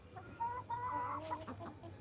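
Domestic hens cluck in a short burst of a few close, clear clucks over a low background hum, with no talking.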